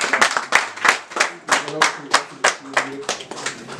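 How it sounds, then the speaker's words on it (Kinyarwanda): Wedding-ceremony audience clapping in a steady run of sharp, close hand claps, about three per second, with a faint voice murmuring underneath. "mubaye amashyi"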